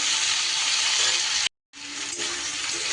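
Cucumber pieces being stirred in a hot pan for shukto, a loud steady frying hiss with stirring scrapes, broken by a brief dead-silent gap midway before resuming.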